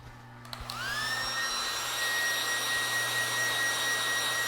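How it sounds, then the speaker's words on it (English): A hair dryer blows over a pheasant tail during taxidermy preparation, starting with a few clicks and then a rising whine that settles into a steady, fairly loud airy hum. "We're going to use a hair dryer to dry this"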